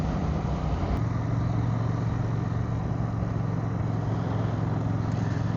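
A 2023 CFMoto 800NK motorcycle cruising in third gear at about 40 km/h, giving a steady, continuous engine drone with a low hum and broadband wind rush, close and fairly loud throughout.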